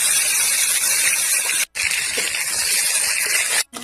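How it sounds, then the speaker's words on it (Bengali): Loud, steady sizzling of cauliflower frying in hot oil, a dense hiss that briefly cuts out twice before resuming. "ফুলকপিগুলো ভেজে নেব।"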